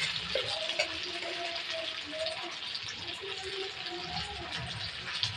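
Pork sisig sizzles and crackles steadily in hot oil, a dense continuous frying hiss close by with faint stirring scrapes, no voices over it.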